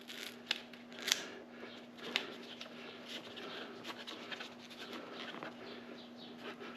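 Plastic fasteners being cut off the grille of a 2023 Jeep Gladiator, heard as sharp, close snipping clicks at irregular intervals over a low, steady background hum.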